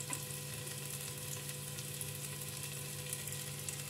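Garlic frying in oil in a cooking pot, a steady soft sizzle that holds evenly throughout at low level, with no voices.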